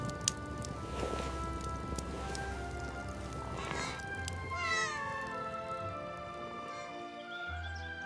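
A family cat meows amid a steady musical backdrop, its cries rising and falling in a few drawn-out calls, moderately close but partly blended with the accompanying music.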